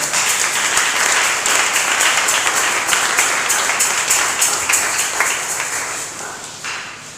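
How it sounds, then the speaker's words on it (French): A church congregation breaking into sustained applause during a sermon, a dense, loud wash of many hands clapping close by that carries on steadily and fades a little at the end. "Acclamons pour la gloire de Jésus."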